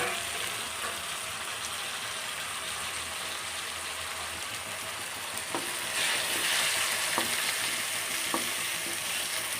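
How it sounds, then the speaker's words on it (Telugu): Tomatoes sizzle steadily in a hot pan for a tomato and broad bean curry, with a continuous close frying hiss, occasional spoon clicks and a louder burst of crackling toward the end, no voices. "తర్వాత టమోటాలు వేసుకునేస్తాము. దాన్ని కూడా బాగా కలుపుకొని"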